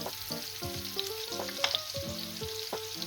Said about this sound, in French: Je vais d'abord commencer par frire mes légumes.